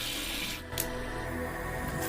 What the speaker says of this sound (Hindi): ये जो गुब्बारों को ना पानी भरेंगे और पानी भरने के बाद उसे बाहर लेके जाएंगे